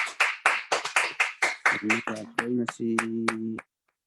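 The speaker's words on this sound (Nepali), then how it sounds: "आउनुहोस् हामी तालीको साथले धन्यवाद दिनेछौँ।" A small audience claps in thanks to a speaker, roughly a dozen and a half distinct, crisp hand claps in a brisk uneven rhythm, while a voice speaks over the later claps before everything stops abruptly.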